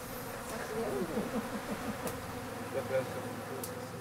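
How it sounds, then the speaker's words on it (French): A swarm of Madagascar bees hums in a steady, dense buzz with individual insects droning past, fairly soft and continuous with no talking. "Non, ce ne sont pas des mouches, ce sont des abeilles."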